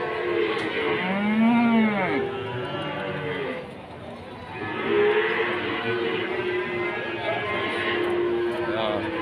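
Cattle mooing at a livestock market, several long drawn-out calls, one deep and close, others overlapping amid background chatter from a crowd.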